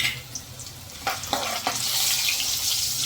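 Bay leaf, dried red chili and whole spices such as cinnamon, cloves and peppercorns fry in hot oil for khari bhat, a soft steady sizzle with a few crackling pops, close and fairly quiet.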